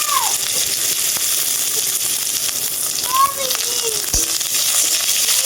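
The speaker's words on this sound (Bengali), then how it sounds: "পেঁয়াজটা একটু ভাজা হয়ে গেলে" Chopped onion frying in mustard oil with a little sugar, dried red chillies and bay leaf for a thin chicken and potato curry gives a steady, close hiss of sizzling that runs through the whole clip, with a few faint chirps in the background.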